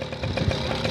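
Moped engine revving hard on a dirt trail, a close, strained buzzing drone with uneven rough pulsing, loud and continuous through the brief moment.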